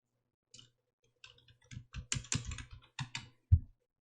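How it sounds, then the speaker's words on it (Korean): Keys clatter on a computer keyboard in short irregular bursts of typing, close and clear with brief pauses between clusters and a firmer final keystroke, no voices. "내용 타이핑 하십니다."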